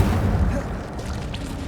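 Incendio fire spell cast in Hogwarts Legacy, a dense roaring burst of flame that lingers as a steady rumbling whoosh without any break.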